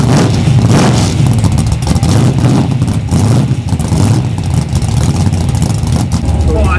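An 840bhp drag car engine revving loudly up close, with repeated swells and dips in its deep roar that fill the whole stretch.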